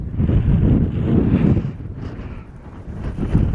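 Strong wind buffets the microphone on an exposed Appalachian Trail mountaintop, a steady low roaring rumble that swells and dips for several seconds with no voices.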